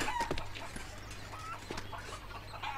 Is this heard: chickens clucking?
yes